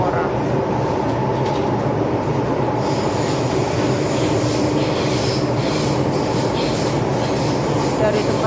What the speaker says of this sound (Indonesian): Ini aku naik kereta api ya.